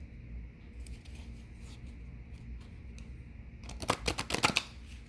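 Cards are shuffled quietly at first with soft flicks, then a louder rapid riffle of cards near the end, close by.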